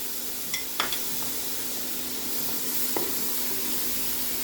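Chicken sizzles steadily in a hot pan as tomato goes in, a constant frying hiss with a few soft clicks and taps of utensils, close and alone without talk.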